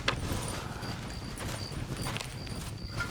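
Horses trotting in the Red Dead Redemption video game, a steady close clip-clop of hooves over a dense rumble of movement, continuous throughout with no talk.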